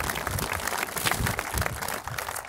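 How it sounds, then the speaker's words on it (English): At an outdoor dedication ceremony for an Air Warrior combat memorial, a crowd gives steady applause, dense and continuous for a couple of seconds before easing slightly. "please welcome these folks and applaud them"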